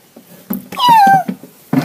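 A cat meows clearly and close by, a rising-falling cry amid a few short chirpy vocal sounds.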